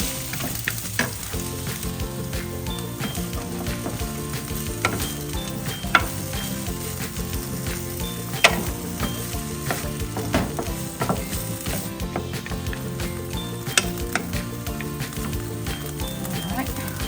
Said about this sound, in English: I'm just gonna saute it